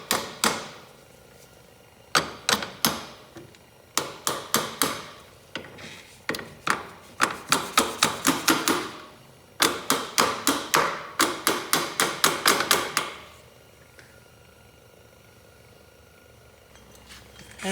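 A hammer strikes a piece of tubing to drive a new seal over a shaft on a Kawasaki Bayou 220 ATV, giving loud, close metallic blows in irregular bursts of rapid hits with brief pauses between them.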